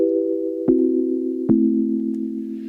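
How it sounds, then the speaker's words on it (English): Chords from an OP-Z synthesizer: a sustained tonal pad with two quick changes, each marked by a short attack, held steady and fairly loud with nothing else over it. "we are gonna start with some chords on the OPZ"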